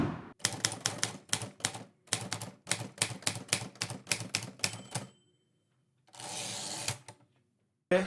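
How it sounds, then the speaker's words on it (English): Dice rattle and clatter in a rapid series of sharp clicks for several seconds, pause, then give a brief hissing shake and a final knock, close and fairly loud. "roll the dice"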